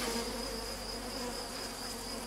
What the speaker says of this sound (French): bah oui, il y a les abeilles là.